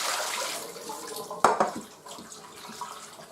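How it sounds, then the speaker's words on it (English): Water runs from a kitchen tap as food is quickly rinsed, a steady broadband rush with a sharper splash partway through and no talking. "Do a quick wash off."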